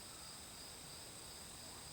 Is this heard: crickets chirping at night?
yes